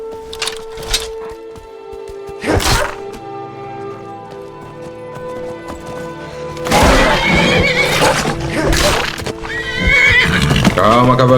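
A horse in the video game Skyrim whinnies loudly several times amid clip-clopping hooves and game ambience, with someone talking over parts of it.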